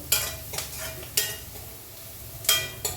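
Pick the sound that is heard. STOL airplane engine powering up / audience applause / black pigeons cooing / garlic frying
garlic frying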